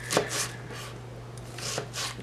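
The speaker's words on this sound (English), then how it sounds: "finish the hacking and the chopping here" A knife chops vegetables on a wooden board while lentil soup is prepared in a home kitchen, giving a few soft, quiet strikes spread unevenly over a faint steady hum.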